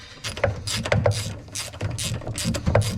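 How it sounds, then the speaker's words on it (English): A wrench tightening a nut down onto a stud on a Corvair automatic belt tensioner, a close run of quick ratcheting clicks in short bursts. "put the nut back on the stud here and tighten it down"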